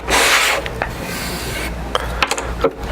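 Wood is hand-sanded with 80 grit sandpaper in close, scratchy rasping strokes: one long, loud rub at the start, then quieter scrapes and a few brief sharp scuffs, with no voices.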